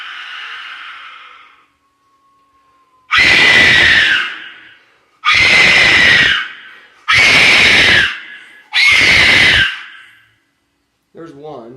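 A handmade clay death whistle blown in four long, loud bursts, each a harsh, breathy, scream-like shriek that rises and fades, with short silences between; a fainter hiss and a thin tone come before them, and a brief sound follows.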